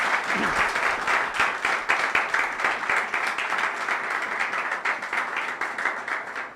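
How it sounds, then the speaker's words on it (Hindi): After a church sermon a gathered crowd claps hard, sharp individual claps scattered through a steady roar of many hands, sustained at even strength and tapering slightly near the end. "जोरदार तालियां, जोरदार तालियां।"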